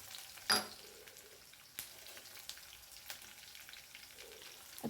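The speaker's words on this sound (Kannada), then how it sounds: "ಚೆನ್ನಾಗಿ ಈರುಳ್ಳಿ ನಾರ್ಮಲಾಗಿ ಒಂದು ಕಂದು ಬಣ್ಣಕ್ಕೆ ತಿರುಗೋ ತನಕ ಚೆನ್ನಾಗಿ ಹುರ್ಕೊಳ್ಳಿ" Onions frying in oil in a pan until browned give a steady, soft sizzle, punctuated by a few sharp stirring clicks and scrapes, heard close and alone.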